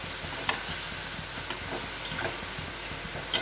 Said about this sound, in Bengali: মশলাটা কষিয়ে নিচ্ছি চিংড়ি মাছের